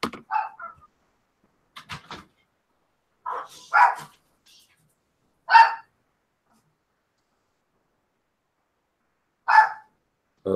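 A dog barks in short, sharp bursts, a handful of separate barks spaced out with silence between them, fairly close.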